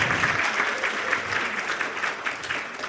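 Steady, fairly loud clapping fills a room at a women-in-business breakfast, a dense continuous round of applause with no break.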